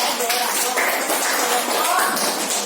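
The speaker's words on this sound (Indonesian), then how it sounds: "silakan dulu kita berikan tepuk tangan untuk teman kita yang sudah maju ke" Students in an elementary school classroom clap for a classmate who came to the front, a dense, continuous patter of small hands that stays close and fairly loud throughout.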